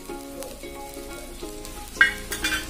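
Jowar flour ghavan cooking in oil on a pan sizzles softly and steadily, with a few sharper clinks and spatters near the end, beneath a faint background tone and no talking.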